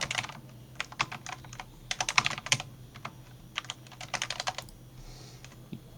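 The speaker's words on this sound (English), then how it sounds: "your keyboard typing is getting picked up by the, on Discord" A computer keyboard typing, picked up by a microphone during a Discord voice call, sounds as bursts of quick, crisp key clicks with brief pauses between runs, fairly close and clear, with no talking.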